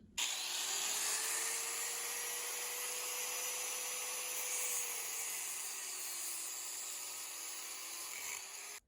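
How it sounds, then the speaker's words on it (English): An angle grinder cuts through steel braided AN hose with a loud, steady high-pitched whine and hiss that runs the whole time, its pitch sagging slightly midway. "Now I'm going to show you with the grinder first"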